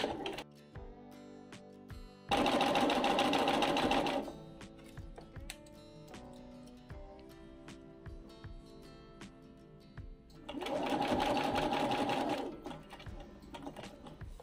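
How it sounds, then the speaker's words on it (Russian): A sewing machine stitches a Christmas table runner in two loud, close bursts of rapid mechanical stitching, separated by quieter clicks and fabric handling with no speech. "Начинаю шить от первой нашей отметки."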